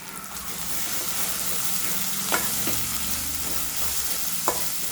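Ground biryani masala hitting a hot frying pan, a steady close sizzle with a few sharp clinks of a spoon against the pan.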